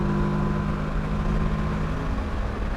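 A Kawasaki Versys 650 motorcycle engine drones steadily in fifth gear at around 6,000 rpm, a loud continuous hum with wind rush and no break in tone.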